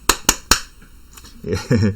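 Three sharp, evenly spaced claps ring out close and loud from a single person celebrating at a Korean real estate news channel, followed by a brief pause and then someone talking.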